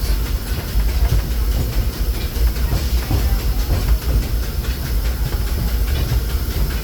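The Disneyland Railroad steam train rolls along its rails with a loud, continuous rumble, hiss and rhythmic clickety-clack, heard close up throughout.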